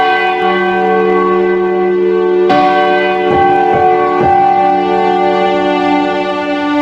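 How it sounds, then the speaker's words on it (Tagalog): A church bell rings out loud and close, its tone ringing on through a sustained hum, with a few more strikes following the first. "Sa ilalim ng kampana ng simbahan"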